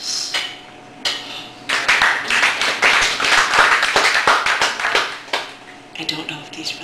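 Brief burst of clapping from a small audience at a poetry open mic in a Chicago café, rising sharply, holding for a few seconds and then tapering off, with voices talking before and after.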